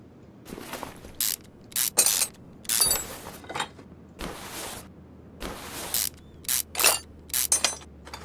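A ratchet wrench removes engine parts in Car Mechanic Simulator 2021, giving loud bursts of rapid mechanical clicking, about a dozen separate runs of varying length with short quiet gaps between them.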